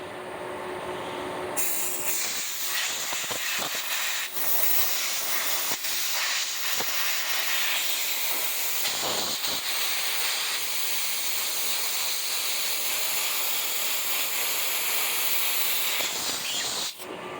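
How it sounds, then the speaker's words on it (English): Compressed air rushes steadily through the tip of a Graco reactor spray gun, a loud continuous hiss close by that holds almost unbroken for over fifteen seconds. "you can check the airflow passing from the tip out both injection ports"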